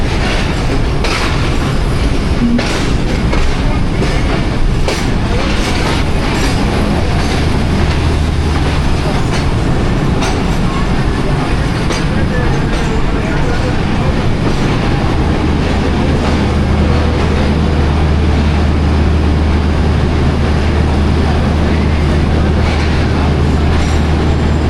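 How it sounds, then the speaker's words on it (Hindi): Passenger train 40 Down pulling into platform 5 at Lahore Junction, loud sustained rumble with rhythmic wheel clatter and metallic rattles close by, a low steady drone growing in the latter half. "40 डाउन अराइवल कर रही है लाहौर जंक्शन के प्लेटफार्म नंबर 5 पे, और 10 मिनट डिले के साथ"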